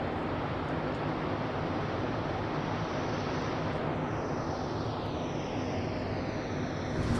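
A jet-engine MC-15 Cri-Cri rolls in the MSFS flight simulator game, its engine and wind rush forming a steady, loud broadband roar, with a whine sweeping downward near the end.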